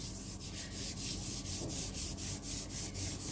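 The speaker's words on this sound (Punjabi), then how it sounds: "ਹੁਣ ਅਸੀਂ ਇੱਥੇ ਗੰਦੀ ਜਗ੍ਹਾ ਦੇ ਉੱਪਰ ਇਹਨਾਂ ਨੂੰ ਇਦਾਂ ਰੱਬ ਕਰ ਲੈਣਾ" A scouring pad scrubs dirty tiles coated with a homemade cleaner in steady, rhythmic back-and-forth strokes, close and evenly paced throughout.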